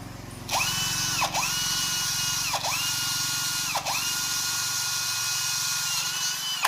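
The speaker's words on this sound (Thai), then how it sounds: "พูดง่าย ๆเลยก็คือจะเจาะด้านละสามรูนะผมทั้งหมด" Near and loud, a power drill cuts bolt holes into steel pieces of a wrought iron grille built from scrap metal, a steady high whine broken by repeated brief dips in speed as the bit catches.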